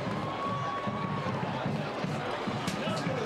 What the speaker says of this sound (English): They're standing up and cheering.